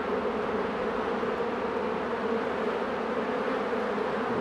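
Dense, steady drone of honeybee workers buzzing at a hive during colony work, a close, continuous hum with no gaps and no voices.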